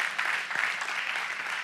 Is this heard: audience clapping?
yes